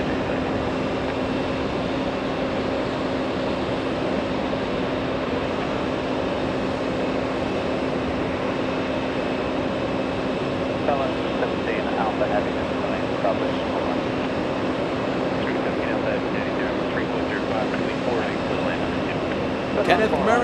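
An American Airlines jet, flight 2287 from Austin, at JFK airport in Queens, New York, produces a steady broad engine roar with a sustained tone that stays constant at moderate distance, with faint voices on top.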